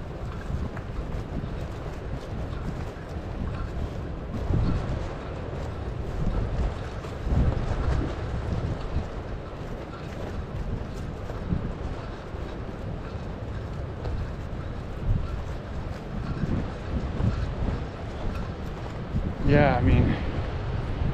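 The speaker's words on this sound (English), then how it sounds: "can really hear the ocean" Ocean surf rolls beyond the dunes on the Oregon coast near a campground, a broad, steady rumble of waves mixed with gusting wind noise on the microphone, while people talk over it.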